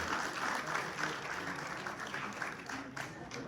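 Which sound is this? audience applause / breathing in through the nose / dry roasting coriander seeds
audience applause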